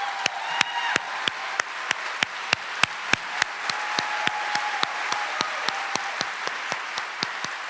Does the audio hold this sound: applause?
yes